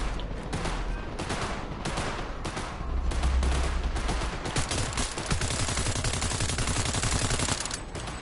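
Gunfire in Cyberpunk 2077 on PS4: dense, rapid bursts of shots rattle loudly and almost without a break for the whole stretch, with no voices.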